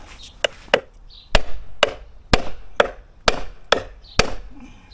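Repeated heavy hammer blows strike a wooden block against a mobility scooter's metal wheel hub, about ten sharp thuds at an uneven pace, loud and close.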